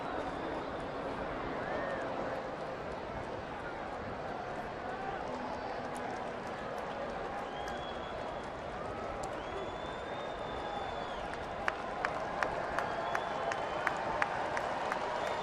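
Baseball stadium crowd in Detroit during a 2011 game, a broad, steady murmur of cheering and scattered applause swelling under an announcer's voice, with sharper claps toward the end.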